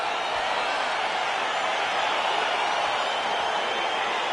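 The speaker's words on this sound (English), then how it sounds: "crowd getting excited as this fight gets underway" Steady dense crowd roar filling an arena for a UFC 4 video game bout as the fight begins, a constant wash of cheering noise with no clear peaks throughout.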